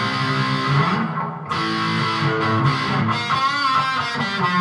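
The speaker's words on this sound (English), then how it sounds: "let's go for a little bit of distortion" Epiphone SG Pro G-400 electric guitar with coil-tapping pickups played through a heavy metal distortion pedal, sustained overdriven chords and riffs ringing loud with a brief pause midway.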